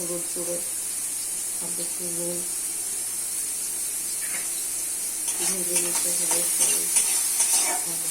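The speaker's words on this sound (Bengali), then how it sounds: "সয়াবিন ভাজা হয়ে গেছে" Soybean chunks frying in hot oil in a pan, a steady sizzle with scraping stirs of a spatula growing busier toward the end, while a voice speaks intermittently over it.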